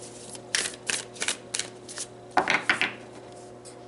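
Tarot cards shuffled by hand before a card is pulled, a series of soft, papery riffles and rubs in quick irregular bursts, close and fairly quiet with no talk.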